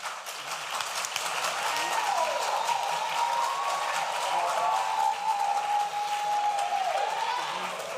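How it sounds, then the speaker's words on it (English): Audience at the launch of an agribusiness summit and expo keeps up steady, dense applause for several seconds, with a voice speaking over the clapping. "let's keep clapping"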